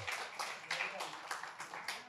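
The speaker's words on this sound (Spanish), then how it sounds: "Démele un aplauso a Jesús, amado." A congregation applauds during an evangelical church sermon on God's covenant with Israel, a fairly faint, steady patter of many hands with rhythmic bursts, sounding somewhat distant in a large hall.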